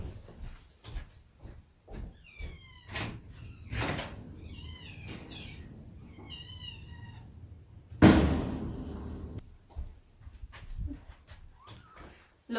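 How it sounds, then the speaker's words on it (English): A house door opens for a visitor on a cold day with one loud, abrupt burst midway, while a cat gives several short, close meows before it. "someone's just come to the door"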